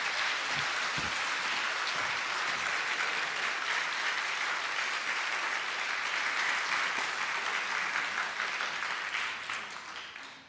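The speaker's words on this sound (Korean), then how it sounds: "우리 남원주 침례교회가 환영할 수 있는 가장 큰 박수로 환영하도록 하겠습니다" A church congregation at a Baptist Sunday service applauds steadily and loudly, a dense wash of clapping that holds for about nine seconds before tapering off at the end.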